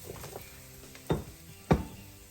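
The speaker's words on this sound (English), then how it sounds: "next we're going to add in our white potatoes" White potatoes dropped into a hot, sizzling stew pot, giving two sharp splashy crackles over a steady low frying hiss, close and fairly loud.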